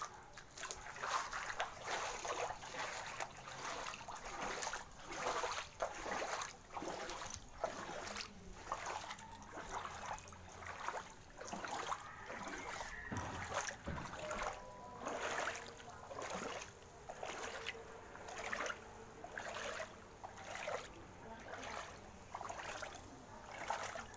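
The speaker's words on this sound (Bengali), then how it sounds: "তো চলো, এবারে আমাদের বাড়ির সামনে জলটা দিয়ে হেঁটে বাড়ি যাই।" Footsteps wade through shallow water in front of a house, a steady rhythm of splashes and sloshing up close, with faint background sounds.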